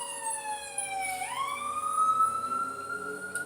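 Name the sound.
ambulance siren passing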